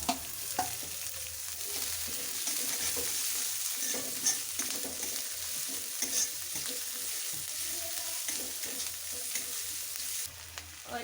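Chopped onions with garlic and ginger frying and being stirred in a pan, a steady close sizzle broken by scraping and stirring clatter, no voices.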